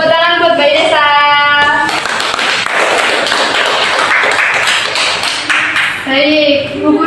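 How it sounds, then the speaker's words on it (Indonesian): A classroom of children bursting into applause, a dense burst of clapping that lasts several seconds, framed by a teacher's voice speaking before and after it. "Tepuk tangan buat Mbak Inesa."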